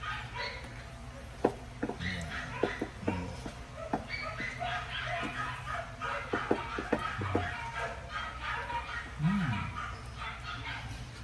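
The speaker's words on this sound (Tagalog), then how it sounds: "pasensya na't maingay yung mga aso sa labas" Several dogs bark and yip intermittently from a distance outdoors, with occasional whimpers over a steady background hum.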